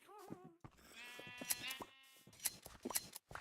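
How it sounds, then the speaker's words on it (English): Sheep bleating in the Minecraft video game: several short, quiet, nasal bleats follow one another in quick succession with no talking. "So anytime these sheep are ready to breed,"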